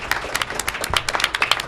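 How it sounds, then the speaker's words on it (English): A brief burst of lively applause from an audience at a panel discussion on residential segregation, with crisp individual claps, close and energetic, and no talking. "Richard, everybody give him a clap"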